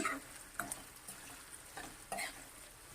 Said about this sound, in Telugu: మనం ఈ మిర్చి ఫ్రై అవ్వనిస్తే ఈ ఫ్రైడ్ మిర్చి చాలా బాగుంటాయండి టేస్టీగా తినడానికి